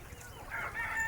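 A flock of free-range country hens and roosters cluck and crow together close by on a morning farm, a busy overlapping chorus of calls.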